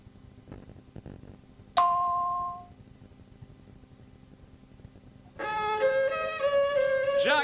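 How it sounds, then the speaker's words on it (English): Answering machine beeps: a single sharp electronic tone that decays over about a second, then after a quiet gap a longer, louder sustained beep with a second pitch. "leave a message at the sound of the beep"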